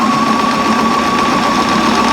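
A Bernina sewing machine runs steadily on its own, its motor humming with a continuous fast needle rhythm at close range, without any talking.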